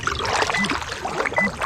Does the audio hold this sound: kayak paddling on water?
yes